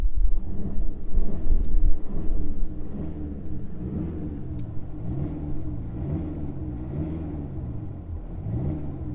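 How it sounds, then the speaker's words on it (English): A VW Golf 7 GTD in sport mode with the sound pack revs its engine, a loud low rumble that swells, then rises and falls in repeated revs, partly played through the cabin speakers. "Now when I rev it,"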